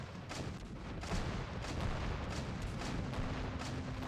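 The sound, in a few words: LAV missile and gunfire in video game Men of War: Assault Squad 2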